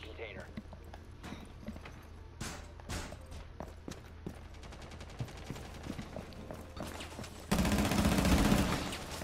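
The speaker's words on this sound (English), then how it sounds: "There's bullets coming three different directions." Gunfire in the video game Rainbow Six Siege, with repeated sharp shots and bursts coming at scattered, uneven intervals at moderate distance, then a sudden loud roaring blast near the end.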